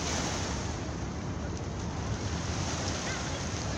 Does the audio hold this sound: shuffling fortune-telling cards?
no